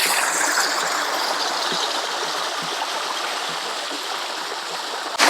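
A small garden waterfall splashes steadily into a fish pond, a constant close, bright rush of falling water with no talking.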